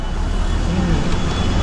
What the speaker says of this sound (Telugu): వేమూరులో బయలుదేరిన కొత్తూరు లంక బస్సు